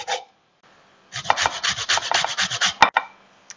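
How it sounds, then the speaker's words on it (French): A lime rubbed against a zester for a mango salsa, a quick run of rapid scraping strokes after a short pause, close and distinct with no voices. "Bon, ben on arrive pas mal fini de zester la lime."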